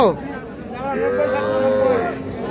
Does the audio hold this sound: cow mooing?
yes